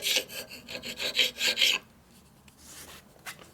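A carbide scraper strokes crud off a 45ci WL Servi-Car Harley cylinder, about ten quick rhythmic rasping scrapes close up, followed by quiet handling and a single faint scrape.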